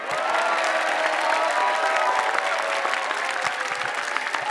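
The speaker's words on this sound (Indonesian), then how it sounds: "Tepuk tangan untuk Mukmin sekali lagi." A comedy club audience gives a stand-up comedian a burst of steady, dense applause, clapping from many hands with a few faint cheers mixed in.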